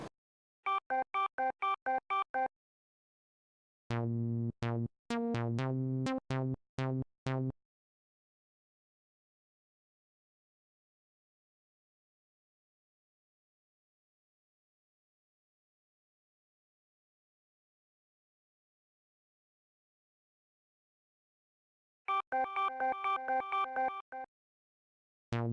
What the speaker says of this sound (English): you get a pretty cool echo effect